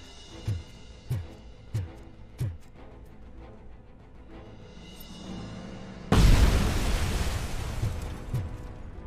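A grenade detonates in the video game RoboCop: Rogue City, a loud broadband blast bursting in after a series of rhythmic thumping footsteps and a rising rumble, its roar lingering and fading with a few more thuds.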